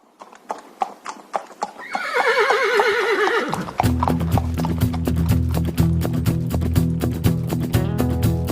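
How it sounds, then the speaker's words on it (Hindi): A horse pulling a tanga cart neighs with a long loud whinny, while hooves clip-clop rhythmically on the road and the cart rumbles along steadily close by. "हम लोग बैठे हैं घोड़गाड़ी में यानी टांगे पे"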